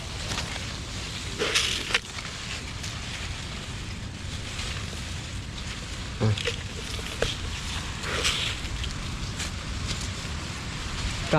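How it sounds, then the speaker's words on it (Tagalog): Steady, blustery monsoon wind roars across the microphone in a cornfield throughout, with occasional louder gusts and faint rattling in the background. "lakas ng hangin"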